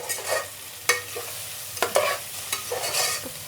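Chopped onions frying in a pan for pav bhaji, with a constant close sizzle broken by several sharp scraping knocks of a spoon stirring against the pan, no talking.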